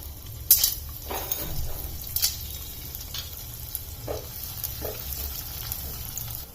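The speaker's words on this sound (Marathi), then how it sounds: "आता आपल्याला डिंक तळून घ्यायचं आहे" Pieces of edible gum (dink) fry in hot ghee in a kadhai for a Marathi urad dal gond ladoo, giving a steady soft sizzle with scattered crackles and pops, close and moderately quiet, with no talking.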